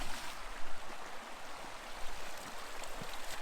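Water rushing through a river dredge sluice box, a continuous bright hiss and gurgle with small splashes, close and steady, no voices.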